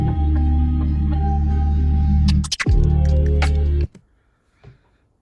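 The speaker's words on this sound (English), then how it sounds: "So I'm playing a bass backwards, so that's that weird noise you hear." A bass sample played backwards in Ableton Live swells as a dense, low droning smear, then cuts off abruptly, leaving near silence with a faint blip at the end.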